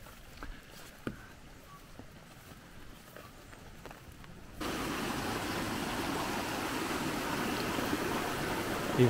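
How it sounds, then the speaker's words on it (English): Quiet outdoor ambience with scattered clicks gives way to a steady, broad rush of rainwater flowing from a culvert that continues to the end. "The water from the culvert."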